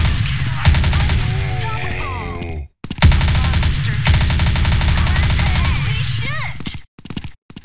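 Sustained machine gun fire from the video game Truy Kích, loud and continuous in long bursts with a brief pause midway, layered with game effects and a voice talking over it.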